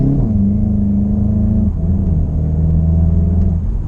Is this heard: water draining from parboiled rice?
no